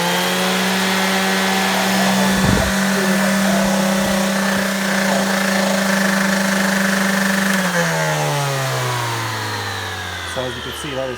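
A Milwaukee M18 orbital sander with a recurring fault runs steadily at very high speed, a sustained motor whine with a steady pitch that drops toward the end as it slows, close and loud with no speech.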